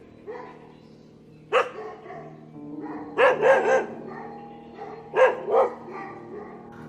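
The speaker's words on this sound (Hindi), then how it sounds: "कुत्तों के भौंकने की आवाज़ आ रही थी।" A dog barks in short bursts, a few scattered yaps then clustered barks, moderately close against a quiet background.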